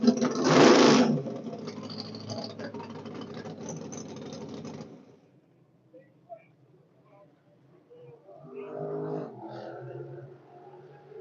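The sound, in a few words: race car engine running during test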